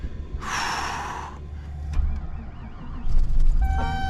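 A diesel-heated vehicle's engine being started in the cold: a brief rattling crank, then the engine catches and rises to a loud, rough idle close by.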